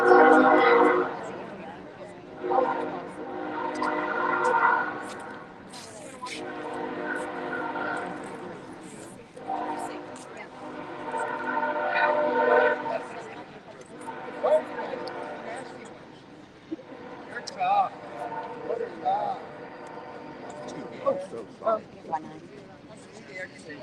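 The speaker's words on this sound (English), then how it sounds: "Oh, there's the train coming through." A train passes through town with a long, loud horn sounding in repeated blasts at a distance, with people talking nearby throughout.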